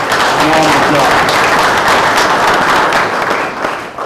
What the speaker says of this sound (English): So again, another round of applause.